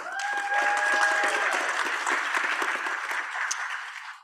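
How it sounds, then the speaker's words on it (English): A crowd at a college community event gives a full round of applause, dense and steady for about four seconds before tailing off, with a voice briefly audible beneath it. "Can we go ahead and do a round of applause for Kaylee?"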